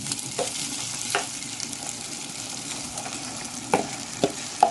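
Rice with green beans and meat sizzles in a pot while a spoon stirs it. Soft clinks and scrapes hit the pot every so often over a steady, quiet frying hiss.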